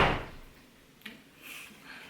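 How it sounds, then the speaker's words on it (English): A door blown shut by the wind closes with a single short knock in the middle, following a fading rush of wind and faint outdoor noise. "The wind was blowing the door shut."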